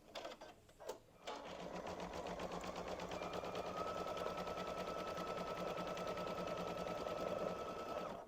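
A Baby Lock embroidery machine stitches a felt candy cane gift tag, starting after a few brief clicks into a fast, steady mechanical whirring and needle chatter that runs continuously and close by.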